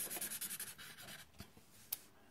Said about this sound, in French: Colorier des yeux peut-être.